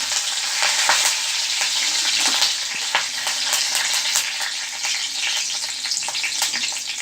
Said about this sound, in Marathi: बटाट्याची भाजी बनवण्यासाठी तेल चांगलं तापवा त्यात कढीपत्ता